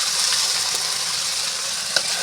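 Ginger, chili and garlic pastes fry with turmeric and salt for a duck curry, making a loud, steady sizzling hiss with one faint tap near the end and no talking.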